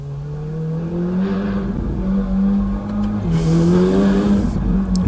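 A Lamborghini Aventador with a Liberty Walk body kit rolls slowly through a tight narrow street, its engine giving a low steady hum that shifts pitch slightly, fairly subdued and unhurried.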